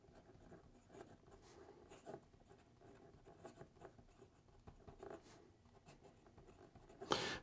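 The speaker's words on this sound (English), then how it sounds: "This is a medium stainless steel nib, and the ink I'm using here is Diamine Communication Breakdown." An Ensso Piuma pocket fountain pen with a medium stainless steel nib writing on paper, a faint, close scratchy patter of strokes and pauses, ending with a louder brief scrape.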